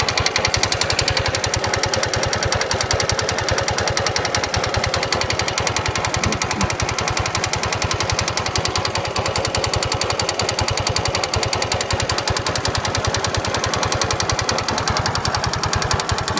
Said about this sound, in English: this is the sound of timing chain.